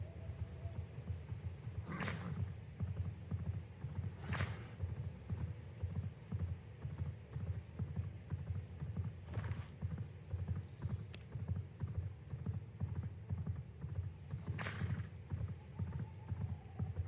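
Steady video game horse hoofbeats clip-clop in a regular rhythm, with a few sharp clicks now and then standing out above them.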